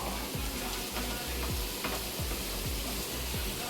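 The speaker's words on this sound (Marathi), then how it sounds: "कांदा सुद्धा मीडियम फ्लेमवर परतून घ्यायचा आहे" Onion fries over a medium flame in a kadhai for a soya burger, a steady sizzle punctuated by rhythmic scraping strokes of a spatula against the pan.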